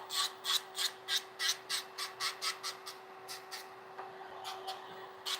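An electric nail drill running at 9,000 RPM files hybrid acrylic and gel nails, making a string of short, rhythmic rasping strokes close by over a steady high motor whine. The strokes fade to lighter passes toward the end.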